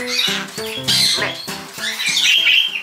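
Rescued parakeets in a crowded indoor room squawk and warble in quick, repeated chirping phrases, close and fairly loud, with no break.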